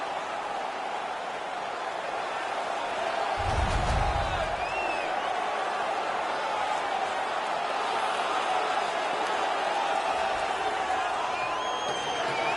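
A hockey arena crowd in the video game NHL 19 keeps up a steady, distant roar with a brief swell of cheering, under a commentator's voice.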